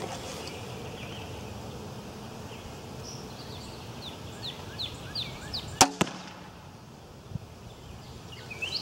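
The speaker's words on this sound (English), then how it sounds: "So we're going to shoot this bow, and then you can get a feel of the noise" Bowtech Stryker Solution crossbow fired outdoors: one sharp, fairly quiet snap and thump partway through, set against soft rustling ambience and faint birdsong.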